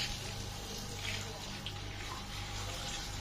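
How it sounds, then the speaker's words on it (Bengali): Water pours from a hose or tap onto the base of a homegrown banana plant, making a continuous soft gushing splash at modest volume throughout. "জল দিচ্ছ গাছে?"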